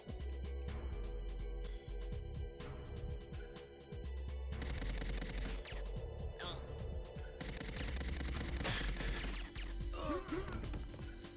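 Enemy soldiers fire at the player in the GoldenEye video game, with bursts of rapid gunfire and single shots layered over game music and effects, continuing throughout at a steady moderate level.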